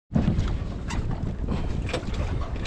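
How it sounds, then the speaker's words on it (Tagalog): A fishing boat's engine starts up and runs with a loud, steady rumbling roar close by, mixed with wind buffeting on open water. "sinisindihan ni Kuya Michael itong makina"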